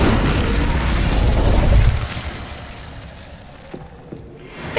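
A fiery Incendio spell blast from Hogwarts Legacy erupts as a loud, dense rumbling burst lasting about two seconds, then fades into a quieter crackling tail with a few small pops.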